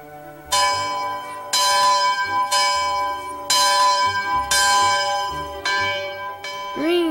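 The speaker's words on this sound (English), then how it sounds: "The bell tells us that it's time for our first meal at camp." A camp meal bell rings out in a steady series of about six loud, ringing strikes roughly one second apart, each tone sustaining before the next, with a faint voice in the background.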